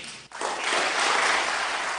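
A political audience breaking into applause after a speech about ending the Troika, a sudden swell of many hands clapping that stays loud and dense, heard from within the crowd.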